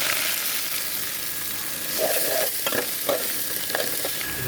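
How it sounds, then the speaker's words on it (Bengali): Cauliflower leaf greens drop into frying garlic in a pan, giving a steady hiss of sizzling oil with a few soft stirring scrapes toward the end. "আমি আপনার শাকটা দিয়ে দেবো। আমি শাকটা দিয়ে দিলাম"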